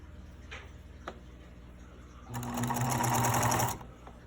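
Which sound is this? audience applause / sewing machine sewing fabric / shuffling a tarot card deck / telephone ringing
sewing machine sewing fabric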